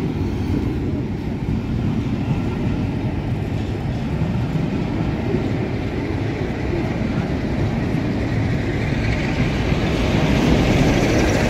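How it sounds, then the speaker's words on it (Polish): A long passenger train with a dining car, hauled by the steam locomotive 6233 Duchess of Sutherland and pushed by a locomotive at the rear, rolls past close by with a continuous loud rumble and clatter of wheels on rails. "A tutaj jeszcze lokomotywa popychająca, tak, tak."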